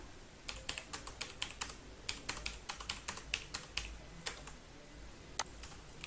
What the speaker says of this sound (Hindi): बस इसको टाइप करना शुरू कर दें